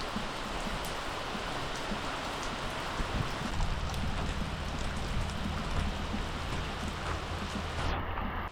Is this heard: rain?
yes